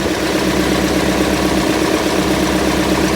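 The engine of a 990 idles just after starting, a steady, close, even rumble with a low vibrating throb and no talking.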